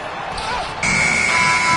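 End-of-quarter buzzer in the basketball video game NBA 2K25, Celtics versus Spurs; a loud sustained electronic tone cuts in after a second and holds steady over arena noise.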